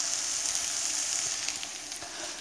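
Corned beef hash with real potatoes, onions and canned corned beef fries in a pan, giving a steady, close, bright sizzle that hisses evenly throughout with no voices.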